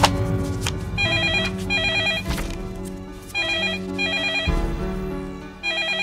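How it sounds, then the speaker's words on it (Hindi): A telephone rings in a Hindi film drama scene, with loud repeated bursts of electronic trilling separated by short pauses over a low background hum. "At least pick up the phone."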